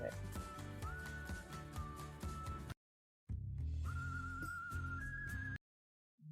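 A played music track carries a sustained whistled melody line over instruments, cut off twice by abrupt silences as the track is skipped.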